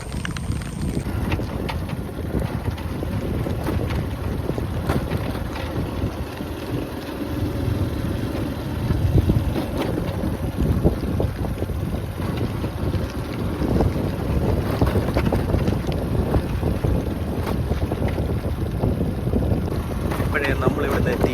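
Wind buffets steadily on an open boat ride, a constant rough rumble and blustery roar of gusts over the microphone, with faint water and motor sounds mixed in throughout.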